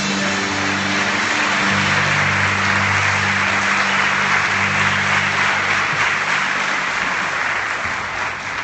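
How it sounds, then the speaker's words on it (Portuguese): A church congregation applauds steadily for about nine seconds during a Holy Communion service, a dense, even wash of clapping with low sustained instrumental tones underneath. "Vamos dar uma calorosa salva de palmas para o Senhor."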